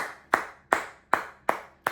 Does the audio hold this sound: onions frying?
no